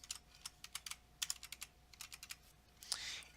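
Keys on a computer keyboard clatter in a quick, uneven run of close taps while an email address is entered, followed by a brief soft rustle.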